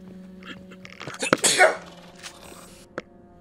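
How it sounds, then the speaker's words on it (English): One loud, close sneeze bursts out sharply, followed by a few faint rustles and a small click. "Oh, I'm about to sneeze."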